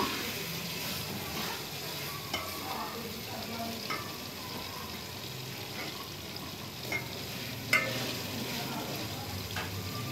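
Beef frying in a pot for nihari, a steady hiss of sizzling with occasional stirring scrapes and soft clinks, continuous and moderately loud throughout.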